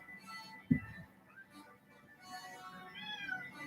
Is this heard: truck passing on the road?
no